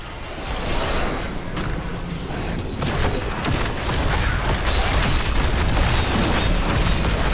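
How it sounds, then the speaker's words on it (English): Elite mortar explosions in Diablo 3 merge into a dense, continuous rumble of booms and bursts, loud and sustained without pause, with no voices over them. "Elite mortars."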